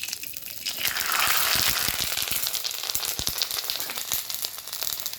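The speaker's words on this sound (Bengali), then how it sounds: "পাঁপড়গুলো তো আমি এখন তেলে ভাজবো" Papad dropped into hot oil to fry: a bright, rushing sizzle that swells in the first seconds and then crackles steadily up close, with scattered pops and no voices.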